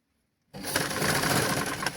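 A sewing machine stitching a pant for a one-to-three-year-old child starts abruptly after a brief silence, then runs as a steady, close, loud whir without any speech.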